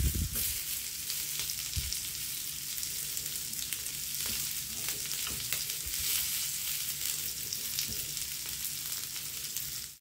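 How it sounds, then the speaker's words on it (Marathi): Ladyfish coated in rava shallow-frying in a pan over a slow-to-medium flame, a steady dense sizzle with oily crackle running unbroken for about ten seconds, close and even in level. "दोन्ही साइडने आपण 2-2 मिनिटं ह्याला फ्राय करून घेतलेला आहे"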